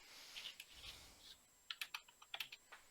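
A computer keyboard typed in brief bursts, giving a quick run of sharp, close key clicks after a softer start, with no one talking.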